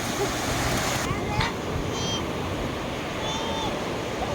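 Sea waves washing onto a beach at Laem Mae Phim, a steady broadband wash of surf filling the whole stretch at moderate level, with faint bits of voice above it.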